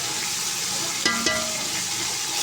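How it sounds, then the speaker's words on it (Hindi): Garlic ginger paste fries in a pot for a vegetable pulao, giving a steady close sizzle with a brief stirring scrape near the middle and no voices. "लहसुन अदरक का पेस्ट अब हम इसके अंदर फ्राई करेंगे"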